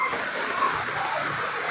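Steady rain pours outdoors on the way to a market, a constant broadband hiss of drops that holds an even level throughout with no voices.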